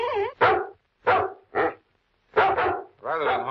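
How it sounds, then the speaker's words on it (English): A dog barking in a radio drama, sharp separate barks in short bursts of one or two, close and loud with silent gaps between them. "complained about the persistent barking of Kimball's dog"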